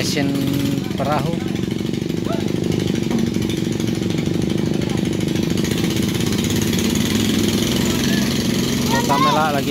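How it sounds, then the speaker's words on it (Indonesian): Loud, steady mechanical boat engine drone with rapid pulsing at a ferry crossing on the flooded Mahakam River, East Kalimantan, running continuously, with scattered voices faintly in the background. "mesin perahu"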